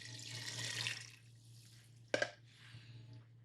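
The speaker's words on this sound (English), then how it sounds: "I'm going to add 32 ounces of water." Water pours from a tap or container into a pot for soup, a quiet broadband splash running for about a second, then two brief sharper spills or drips near the end, with no voices.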